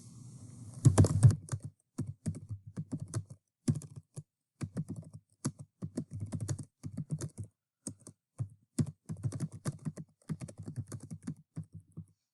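Fingers typing on a computer keyboard in bursts of rapid key clicks separated by short pauses, close and fairly quiet, with no talking.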